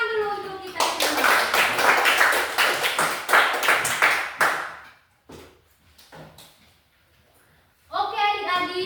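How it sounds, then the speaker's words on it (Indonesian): A rhythmic burst of hand clapping in a classroom, a few people clapping together in a steady beat, then quiet before a voice resumes. "Tepuk tangan dulu untuk kita semua."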